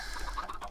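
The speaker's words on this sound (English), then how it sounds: "The way I can tell is my chicken farm is freaking out." Chickens cluck in a Minecraft chicken farm, a brief busy burst of overlapping clucks at moderate loudness with no voices.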